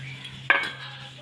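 A single sharp clack of a spoon against a bowl while ridge gourd filling is mixed with coriander, followed by a short scraping tail in an otherwise quiet kitchen.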